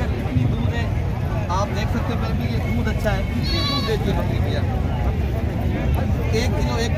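A goat at a village livestock market bleats a few times, mid-distance, beneath constant loud crowd babble and people talking close by.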